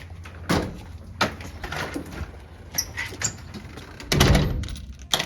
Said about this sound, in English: Close the door and lock it, please.